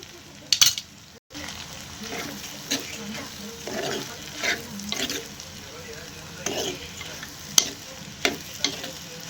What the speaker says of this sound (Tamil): தேங்காய் பூ போட்டு நல்லா கிளறி விட்டுக்குவோம்